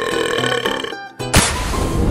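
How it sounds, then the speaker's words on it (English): One loud, wet burp rolls out close up after a brief pause, with a tonal, throaty voice before and after it. "I think I'm burping."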